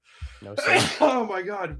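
A person lets out a single sharp sneeze, close and loud, then speaks right after it.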